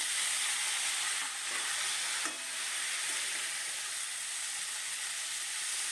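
Shepu (dill) greens hit garlic masala frying in a pan, sending up a loud, steady hiss and sizzle with a few faint stirring clinks and no voices.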